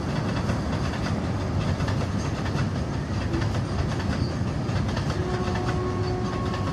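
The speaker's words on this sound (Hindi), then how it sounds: "लग रहा है बुलेट ट्रेन का पाटा ले जा रहा है" A train passes carrying rails for a bullet train line. Loud, continuous rumbling and rhythmic clickety-clack of wagons sound close by, with a faint high squeal near the end.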